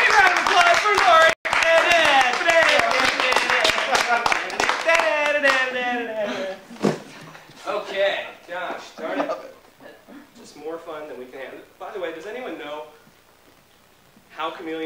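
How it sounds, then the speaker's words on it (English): An audience claps during a magic performance, brief clapping under loud speech at the start, then fading as a voice continues talking over a quieter room. "Once again, a round of applause for Lauren."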